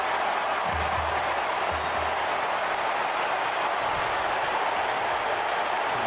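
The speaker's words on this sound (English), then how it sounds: "The crowd is pretty loud." A large stadium crowd at a Buffalo versus Northern Illinois football game cheers in a loud, steady roar that stays continuous throughout, with no breaks.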